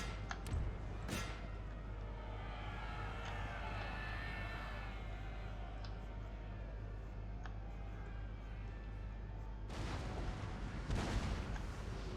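Musket volleys in Napoleon: Total War crack out as a few sharp bursts at the start and a heavier rolling volley near the end, over a low, steady battle rumble.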